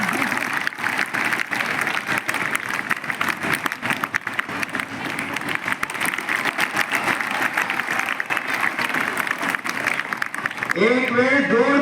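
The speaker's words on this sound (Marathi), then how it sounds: "एक वेळ जोरदार टाळ्या स्वतःसाठी." A school crowd breaks into vigorous, sustained applause that holds strong and even for several seconds before thinning out. Near the end, a voice speaks over the last of the clapping.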